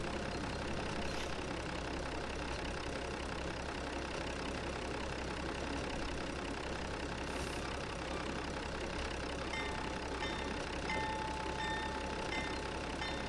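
A diesel locomotive engine idles steadily in the Trainz 2022 railway simulator on the Eagle River route, a low, chugging drone with a rough, tractor-like character that holds even and continuous throughout, with no voices.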